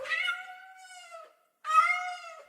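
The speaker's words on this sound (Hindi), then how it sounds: "बिल्ली के चिल्लाने की आवाज आती है।" A cat lets out two drawn-out, strained yowls separated by a short silence, close and fairly loud against a quiet background, used as a sound effect in a Hindi ghost story.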